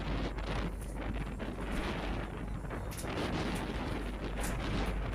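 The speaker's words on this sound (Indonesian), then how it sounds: "angin kencang ya" Strong night wind under the Barelang Bridge 2 roars steadily across the microphone, a dense continuous rumble with gusty buffeting throughout and no voices.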